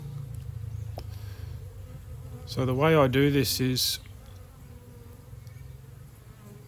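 Honey bees hum steadily around a mini nuc hive in a backyard apiary, a continuous close drone that carries on beneath someone speaking briefly in the middle.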